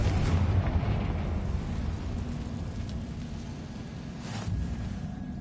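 Confringo fire spell blast in Hogwarts Legacy: a loud, sustained rumbling explosion that fades gradually, with a second sharp burst near the end, crackling debris-like noise throughout and no voices.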